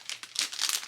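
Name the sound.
plastic bag crinkling while packing an order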